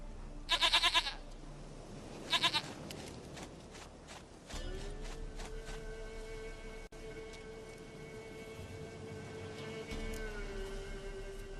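Goat in The Witcher 3: Wild Hunt video game bleating twice, short loud wavering cries close by, followed by a low steady hum and faint ambient sounds with no talk.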